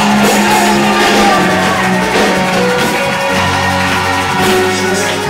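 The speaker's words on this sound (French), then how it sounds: "Lance des cris de joie." A church congregation shouts and cheers in joy during a worship service, a loud, dense crowd roar with whoops and yells filling the whole stretch.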